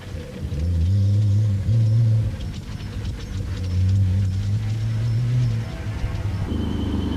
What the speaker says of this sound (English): pressure was arriving in the form of the powerful Toyota Hilux of Philip Milan and Richard Leek, which was approaching hard and fast